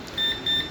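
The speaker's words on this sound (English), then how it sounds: "without power supply, then also it has to show the beep" A laptop motherboard on the repair bench gives two short, thin electronic beeps in quick succession, faint and steady, with no talk over them.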